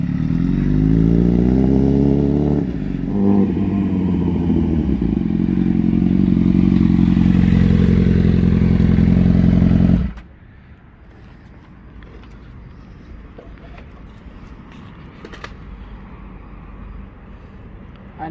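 A motorcycle with a loud exhaust roars up close on a test ride, revving hard with rising pitch before abruptly cutting out, leaving a quieter low rumble afterward.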